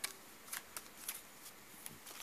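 Playing cards shuffled back into a deck during a tabletop card game, heard as a string of soft, crisp riffling snaps and flutters with no talk.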